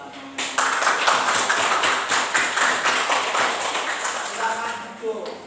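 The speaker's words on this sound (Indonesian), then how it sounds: "Kita beri tepuk tangan." Pupils in a classroom clap together in a brisk, uneven burst that starts abruptly, then thins out, with children's voices and chatter mixed through it.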